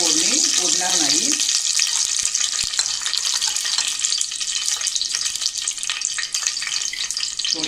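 Curry leaves dropped into hot oil on a low flame for a tempering, giving a loud, dense sizzle and crackle that holds steady, with a brief voice at the start.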